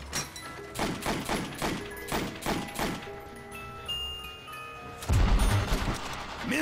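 Machine gun fire in Call of Duty: World at War zombies mode, a run of loud, rapid bursts in quick succession, then a heavy thump and rumbling fire toward the end.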